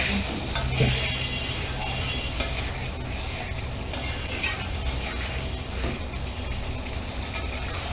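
Spiced masala for a prawn curry is stirred in a pan with hot water added, giving steady sizzling and frying with scraping stir sounds and a few sharp clinks, close and continuous.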